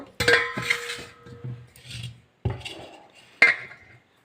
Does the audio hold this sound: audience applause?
no